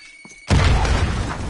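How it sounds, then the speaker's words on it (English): Video game grenade going off, a single sudden loud boom with a crashing, rumbling decay that fills the rest of the moment after a brief quiet lead-in. "Grenade out!"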